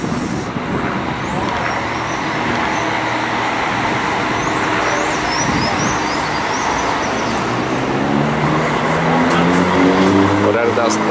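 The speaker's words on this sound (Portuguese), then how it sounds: "Agora temos um Paradiso 1200 da Entran. Carro 4860, ele está partindo para Seabra." A Marcopolo Paradiso 1200 coach of the Entran line pulls away from a bay at Tietê bus terminal, its engine rumbling steadily amid busy terminal and traffic noise while people talk nearby.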